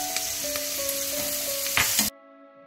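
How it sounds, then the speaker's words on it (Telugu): Sweet corn frying in a pan with onions, salt and turmeric gives a steady, close sizzle with light stirring scrapes, then cuts off abruptly near the end. "ఇప్పుడు దీనిలో ఈ స్వీట్ కార్న్ వేసుకొని కొద్దిగా వేగాలి"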